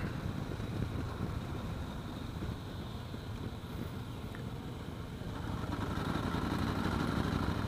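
Demo motorcycle engine lugging at low revs in fifth gear on a road ride, a steady low rumble heavily masked by wind noise that swells slightly toward the end.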